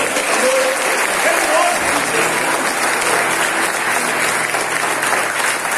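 Congregation clapping loudly and continuously at a church conference, with voices and cheering mixed into the applause throughout.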